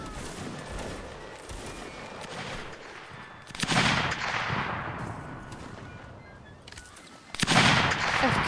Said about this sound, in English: Keep shooting, guys.